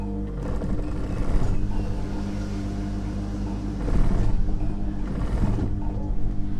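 A sewing machine stitches a trouser hem with a close, steady mechanical hum, swelling into two louder runs of rapid stitching partway through.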